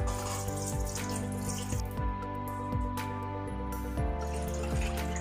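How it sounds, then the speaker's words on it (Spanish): Two litres of water pouring from a tap into a cooking pot for Veracruz-style beef barbacoa, a steady close splashing stream with drips that briefly lets up midway. "Vamos a agregar los 2 litros de agua."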